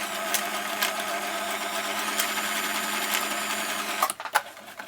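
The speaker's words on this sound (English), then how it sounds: "I'm just going to make a stitch back and forth here so that they stick together." A sewing machine stitches back and forth on sweatpants in a steady, loud, close mechanical whir that runs without a break, then stops near the end and leaves a few brief clicks and knocks.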